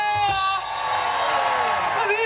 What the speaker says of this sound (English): Let me hear you say yeah!